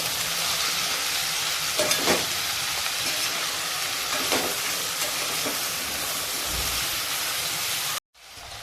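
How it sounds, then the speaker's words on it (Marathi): Capsicum, cauliflower and other vegetables sautéing in a pan, a continuous loud sizzle with a few scraping stirs, ending in a sudden cut to near silence. "आता या सर्व भाज्या चांगल्या परतून घेऊ"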